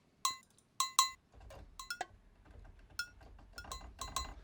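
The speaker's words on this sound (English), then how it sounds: "You get your cowbells and your go-go lows." Bright metallic sampled cowbell hits from NI Komplete 10, played on a keyboard, ring out in short bursts, clanking in an irregular rhythm over a quiet low hum, with no voices.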